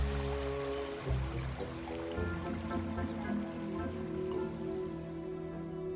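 River water flows steadily with a continuous rushing wash and scattered droplet patter, fairly close. A low hum sits beneath it throughout and no one speaks.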